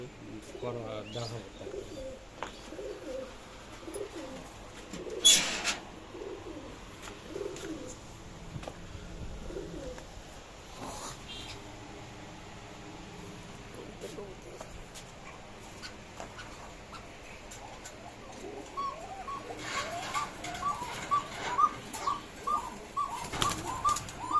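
Soft coos of foreign tumbler pigeons repeat in a low, throaty rhythm, with occasional wing flaps and a background of people talking nearby.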